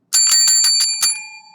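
A bright, metallic bell rings in a quick run of about six strikes, close and loud, with the final ring decaying away on its own.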